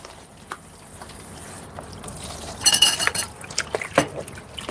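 Cooking utensils, pots and dishes clatter and clink while being washed during home cooking of a Thai jungle curry with vegetables, with scattered sharp knocks, splashing water and a busier burst of rattling midway.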